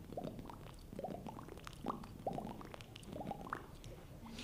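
A person's mouth imitating water by pushing it out with the tongue, making a faint series of wet, bubbly pops and gurgles in an irregular rhythm, with no talking.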